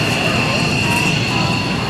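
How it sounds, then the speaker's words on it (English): An F-86 jet fighter roars past loud and close at an airshow, its engine noise a constant broad rush that fills the whole moment. "Snort is flying is the F-86 the F-86 or the CF-86"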